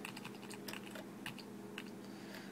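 Soft, quick keystrokes on a computer keyboard, including arrow-key presses, tap out an irregular run of close, quiet clicks.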